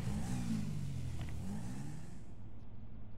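A car engine revving inside Grand Theft Auto V, a steady mid-pitched growl that swells and dips through a few throttle blips, fairly close, with no talking over it.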